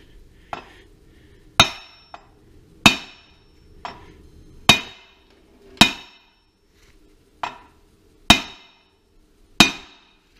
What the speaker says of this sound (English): Couple of light taps.